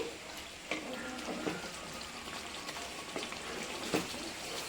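Chicken gravy spiced with garam masala simmers in a pan, giving a faint, steady bubbling hiss with small scattered pops and no talking.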